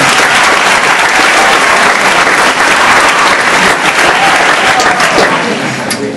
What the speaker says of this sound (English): So let's get a round of applause for the round.